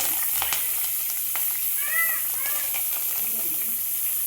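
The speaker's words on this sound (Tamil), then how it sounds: "இப்போ நம்ம கருவேப்பிலை போட்டுக்கலாம்" Curry leaves dropped into hot oil for poori masala, giving a moderate sizzle and crackle with a few sharp pops, while faint tonal squeaks and a brief background chirp sit in the mix.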